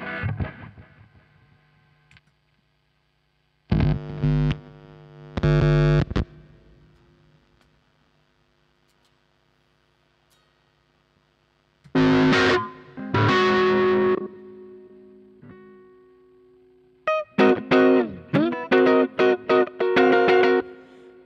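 Electric guitar played through a Boss Katana amp with distortion and chorus-like effects, heard in three separate bursts of chords and funky riffs with silent gaps between, close and loud with no voices.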